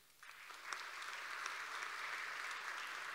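An audience at a public talk breaks into applause, a sustained wash of many hands clapping that starts abruptly and holds steady, heard slightly at a distance.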